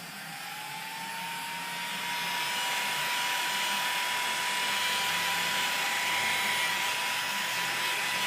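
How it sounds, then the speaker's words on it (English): A heat gun blasts steadily on its highest setting while shrinking heat shrink tubing on wiring, with a constant rushing whine that swells slightly after the first seconds and holds close and loud throughout. "keep the heat gun kind of away from the Techflex because it is nylon"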